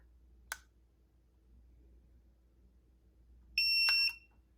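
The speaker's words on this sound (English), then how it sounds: "Press and hold the power button and you will hear one beep." A Tymate tire pressure monitoring system gives one short, clear electronic beep as it powers off, preceded by a faint click in an otherwise quiet room.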